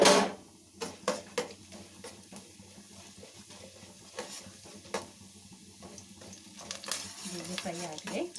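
Urad dal frying in a little oil in a pan on low heat, soft sizzling under intermittent scraping and stirring with a spoon, quiet and close.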